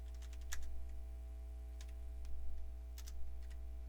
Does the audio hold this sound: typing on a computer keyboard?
yes